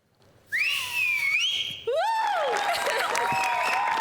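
A person whistles loudly and close on a stage at a comedy show, producing two long sliding, warbling whistles in succession over a low background.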